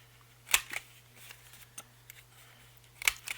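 A 1/4 inch corner rounder punch rounds the corners of journal cards, giving two sharp close clicks about two and a half seconds apart, with faint paper rustles between them.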